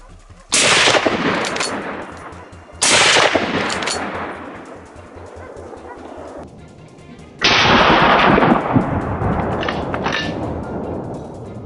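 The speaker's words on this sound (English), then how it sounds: "The gunshot rang out decisively, and the boar collapsed, lying motionless on the white snow." Three loud gunshots crack out during a night wild boar hunt in snowy country, each a sharp blast trailing into a long echoing decay, spaced a few seconds apart with no talk.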